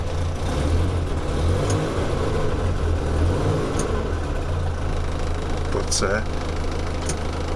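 A 1954 Morris Minor's 803 engine, recently fitted with an oil restrictor, runs close by with a steady low rumble that rises slightly and settles into an even idle, while someone talks over it.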